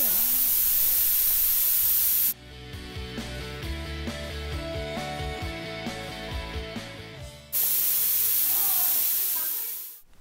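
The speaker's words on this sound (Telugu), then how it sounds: "ఇదేమో వాటర్ స్ప్రే అనమాట ప్లాంట్స్ ట్రీస్ అన్నిటికీ." A water mister sprays plants and trees in a UK greenhouse holding Indian plants, giving a steady, loud broadband hiss that cuts off while music plays, then returns and fades at the end.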